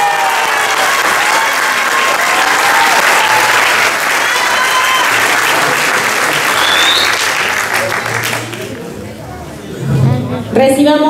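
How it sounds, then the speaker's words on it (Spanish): Audience at a piano recital applauds, a loud dense wash of clapping that holds steady, thins near the end, and has a voice speaking over it. "Recibamos con un caluroso aplauso a James Pizarro Chiva"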